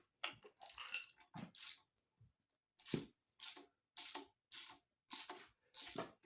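A socket handle works stubborn engine bolts on a 1948 Case VA tractor, giving a run of about eight sharp ratcheting clicks in evenly spaced bursts, fairly close and distinct, with no talk.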